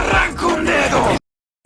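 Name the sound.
child screaming for help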